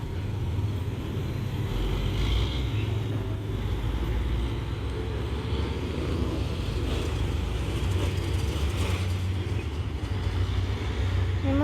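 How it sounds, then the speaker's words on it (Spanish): Steady street traffic rumbling through the town centre of Joyabaj in Quiché, a continuous dense roar of passing vehicles heard close and without talk. "Hay mucho tráfico."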